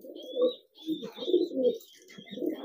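A male pigeon coos loudly and repeatedly in courtship, with low throaty rolling phrases close to the listener, and faint higher bird chirps in the background.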